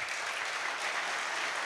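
Audience applause at an anniversary celebration in Pisa, a steady, dense wash of clapping from a crowd that holds at an even level for the whole short moment.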